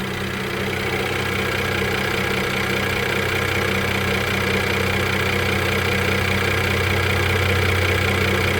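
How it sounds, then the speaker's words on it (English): A 2015 Mercedes GLK350 4MATIC SUV engine idles steadily and close, a constant low hum with a faint rapid ticking from its direct injection running throughout, no talking. "What is that sound? Is that the sound of direct injection?"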